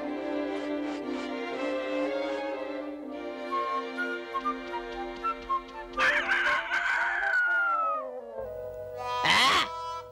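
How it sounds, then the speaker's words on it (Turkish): A cartoon rooster crowing in a Smurfs episode, in long, drawn-out calls, close and fairly loud, ending in a higher, strained cry. "O aptal horozdan nefret ediyorum."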